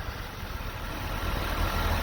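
A Ram EcoDiesel pickup truck idles at about 27 degrees Fahrenheit in Michigan, running at raised cold-start revs. The engine gives a steady, low, fairly quiet rumble with no break in it.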